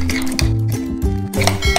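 Ground spices, turmeric and salt are stirred into a garlic, ginger and green chilli paste for grilled fish, with a spoon clinking and scraping against a bowl in quick, close strokes.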